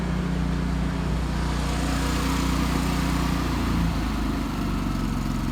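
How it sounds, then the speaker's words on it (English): Miller Trailblazer welder generator engine running revved up, a loud continuous mechanical drone with a steady hum that shifts slightly in pitch partway through, close and unbroken. "Trailblazer's revved up"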